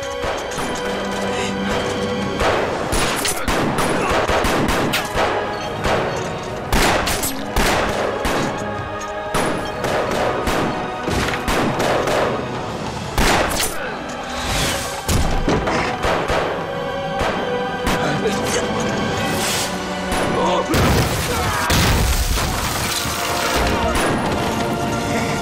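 Gunfire erupts in a Chinese war film as a sniper fights Japanese troops, with dense bursts of shots, crashes and explosions layered over music for the whole stretch, loud and close with no pause.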